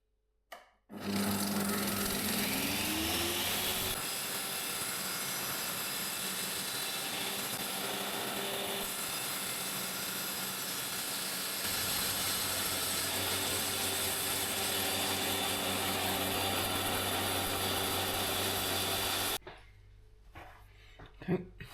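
An IQ saw cutting through a ceramic tile, a loud steady mechanical whine and grind that runs continuously for about eighteen seconds before stopping abruptly.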